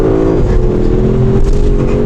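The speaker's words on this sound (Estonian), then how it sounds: "väike 4-ratta drift" An Audi S6 C7 with the 4.0 TFSI V8 and four-wheel drive holds a loud, sustained engine roar through a small drift, the note steady and close from inside the car with no talk.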